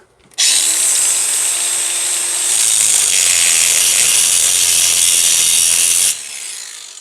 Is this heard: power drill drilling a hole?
yes